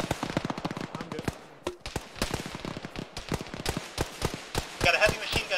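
Rapid bursts of heavy machine gun fire crackle through an Arma ShackTac infantry battle, with sharp repeated shots close and loud, scattered distant gunfire between them, and faint voices underneath.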